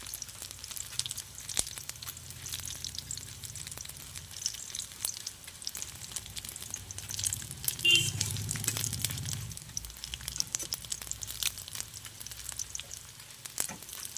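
Pumpkin slices coated in gram flour batter fry in hot oil, a steady soft sizzle and crackle running throughout with no talking, a brief louder bubbling swell near the middle.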